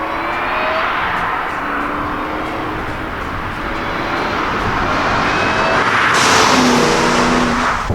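A 2008 Ford Mustang Shelby GT500's supercharged 5.4-liter V8 roars loudly and continuously up close, with a rising whining pitch under acceleration and a surge in intensity near the end.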